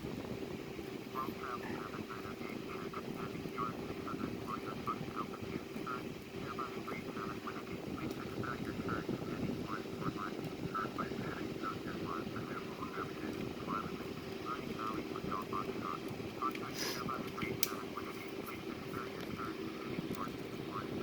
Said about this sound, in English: So here is the Airbus A340-313X.